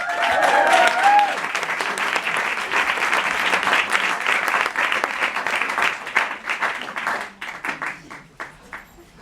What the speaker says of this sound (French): Un tonnerre d'applaudissements pour Nadi Lafay